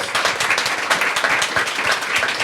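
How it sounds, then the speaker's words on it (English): Audience applause after a leadership talk at a housing event, a dense steady wash of many hands clapping, fairly loud and close, lasting without pause. "Can we please start by giving everybody a round of applause?"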